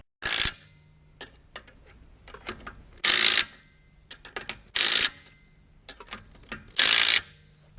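A ratchet tightens lug nuts on a stock Ford F250 wheel fitted with 40x15.50 tires. Several bursts of loud, close clicking ratcheting, separated by quieter fumbling and single clicks, with no one talking.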